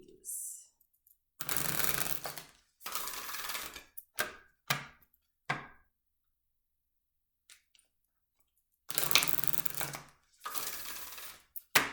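Moonology oracle cards are shuffled and handled in crisp, close bursts of riffling and flicking, separated by pauses and a few soft taps, with no talk over them.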